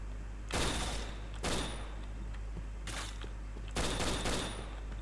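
Gunfire in the shooter game Point Blank crackles in several quick bursts of sharp shots spread across a few seconds, heard at a moderate distance over a steady low hum, with no talk.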